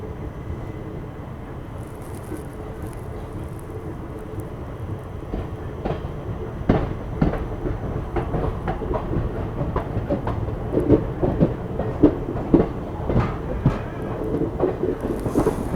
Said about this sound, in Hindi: अपनी मसूरी एक्सप्रेस निकल चुकी है गढ़मुक्तेश्वर रेलवे स्टेशन से